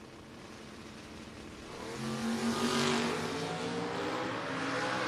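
A drag race car launches off the starting line at a No-Box 660 shootout, an engine roar swelling from a distant rumble to a louder rising howl that holds near the end.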